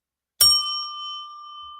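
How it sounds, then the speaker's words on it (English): A small desk bell with a little smiley face on it is struck once, a bright ding with a long ringing tone that sustains and slowly fades on its own. "And it's a cute bell. It has a little smiley face on it."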